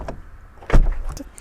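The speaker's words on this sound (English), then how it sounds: "And the doors are soft close as well." The soft-close door of a Lotus Eletre electric SUV pulls itself shut with a single muffled thump and brief whir, close by, with no talk.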